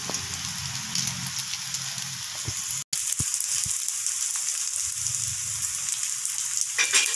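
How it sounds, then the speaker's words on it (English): Vegetable potato cutlets shallow-frying in hot oil, a steady crackling sizzle close by with a brief cut partway through and a few soft clatters. "Wait till they fry golden brown in color."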